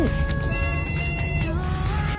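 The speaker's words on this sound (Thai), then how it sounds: "เนี่ยเวลาเห็นนกใกล้ๆ ก็จะร้องสุดเสียงแบบนี้เลย" A pet cat yowls at full voice at birds nearby, producing a loud, close, wavering meow with rising and falling pitch that fills the whole couple of seconds.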